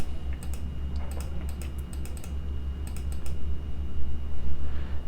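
Bursts of typing on a computer keyboard, quick clusters of clicking keystrokes separated by short pauses over a steady low hum, fairly close and moderate in level.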